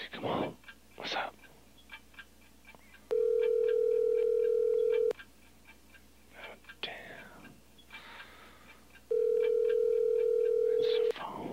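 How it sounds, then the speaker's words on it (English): A telephone rings in a 1994 recording: two long, steady electronic ring bursts separated by several seconds, with quiet murmured voices and rustling between them. "let me answer this damn phone"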